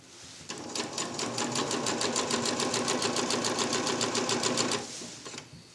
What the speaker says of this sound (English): I'm just going to go along the right-hand side here and sew it all together.